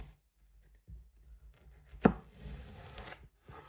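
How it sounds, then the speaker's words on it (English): A small watermelon chopped open with a knife in a home kitchen: quiet handling and a few soft taps, then one sharp, loud chop, followed by rustling and crackling as the fruit splits. "So let's chop this open and have a little look and see what it looks like"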